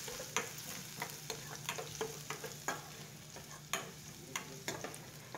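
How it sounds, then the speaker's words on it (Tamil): Chopped garlic sautéing in hot oil, with a steady quiet sizzle and repeated clicks of stirring spread through the stretch, no voices present. "இந்த பூண்டு நல்லா எண்ணெயில் வதங்கட்டும்."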